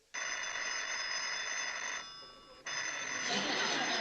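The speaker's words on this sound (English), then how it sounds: "Phone's ringing, Sam." An old telephone bell rings loudly in two long bursts with a brief pause between them, close by, and muffled voices come in near the end of the second ring.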